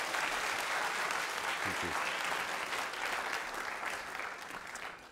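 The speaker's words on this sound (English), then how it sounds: "A round of applause for my volunteer." An audience applauds a volunteer at a science demonstration, dense and sustained clapping that fills the room and slowly tapers off, with a brief voice heard partway through.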